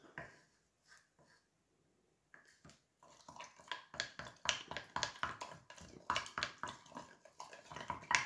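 Wet clay paste, made with water for use as glue, is worked and mixed by hand, giving sparse soft squelches that turn into a fast run of wet slaps and smacks, close and alone.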